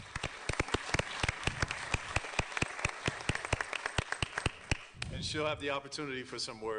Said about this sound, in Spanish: Aplausos, aplausos.